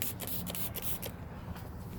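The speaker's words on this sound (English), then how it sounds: "Let's just keep spraying it and see what happens." A trigger sprayer mists Invisishield drying aid in rapid hissing bursts, about five short sprays in quick rhythm, followed by a softer rubbing hiss, close and moderately loud with no speech.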